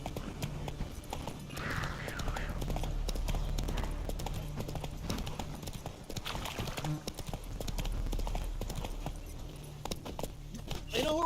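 Roach the horse gallops in The Witcher 3, a steady rapid clip-clop of hooves close by that runs throughout, with a faint jingle of tack.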